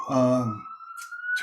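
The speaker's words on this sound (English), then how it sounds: "I'd like to apologize for the sirens." Emergency vehicle sirens on a New York City street rise as a single long tone, moderately loud and steady, heard behind someone speaking at an interfaith prayer service.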